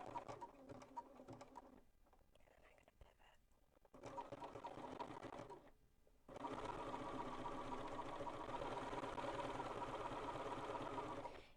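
A BERNINA sewing machine sews an applique satin stitch, running in steady, fast mechanical bursts with brief stops between. A long continuous run of close-up whirring and needle chatter comes last.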